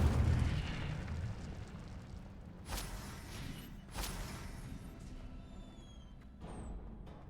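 An Incendio fire spell is cast in a magic video game: a steady, roaring, crackling blaze with two sharp whooshing bursts partway through, loud and close, alone without voices.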